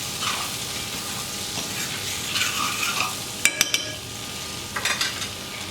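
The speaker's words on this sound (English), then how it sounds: "Melt that butter in there. Scrape up our bits." Butter melting and sizzling in a hot pan while a utensil stirs and scrapes browned bits from the bottom, with a few sharp metallic clinks of the spoon against the pan.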